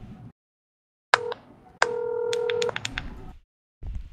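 Phone call ringing in a Minecraft session: a short burst of tones, then a longer sustained ring tone with stacked beeps, set between silences, with faint speech before and after.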